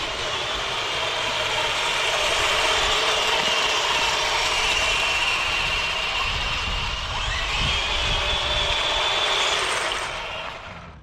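SG 1203 RC tanks, one with a modified motor and one stock, drag racing, a continuous high electric motor whine and gear hum, close and steady before fading at the end, no talking.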